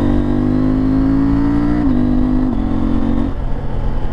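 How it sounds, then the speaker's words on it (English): A KTM 890 Adventure R Rally motorcycle on knobby tires holds a steady high-revving engine drone, with a quick shifter blip cutting in briefly as the pitch steps down, loud and close with no talk. "Oh, that quick shifter sounds so good when it blips like that."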